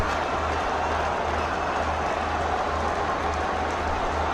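A stadium crowd at a 2021 Pakistan Super League cricket match between Karachi Kings and Islamabad United keeps up a dense, unbroken roar, loud and steady from start to finish with a low hum beneath it.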